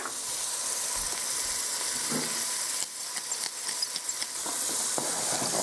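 Beef browns in a hot pot with a soft, continuous sizzle and hiss, faint and steady, broken by a few light stirring clicks midway, with no voices.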